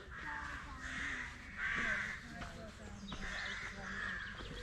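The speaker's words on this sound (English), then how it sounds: "There's obviously a rookery on the other side of the river" Rooks caw from a rookery across a river, a steady chorus of harsh calls rising and falling at a distance, with people talking nearby over the top.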